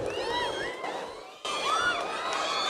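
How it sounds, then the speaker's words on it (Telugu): A large crowd at a university centenary celebration cheers and shouts continuously, with high whoops and children's voices; the roar dips briefly mid-clip and then swells loudly again. "అంటే మీరు చప్పట్లు కొడుతుంటే"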